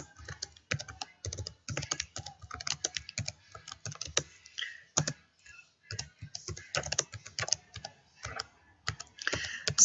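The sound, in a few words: typing an email on a computer keyboard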